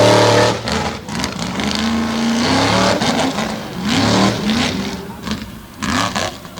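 A Chevrolet bow-tie drag racing truck from Old Dominion runs at HorsePower Park, chasing a ten-second pass; its loud engine roars and revs steadily close by for several seconds, with brief swells as it accelerates.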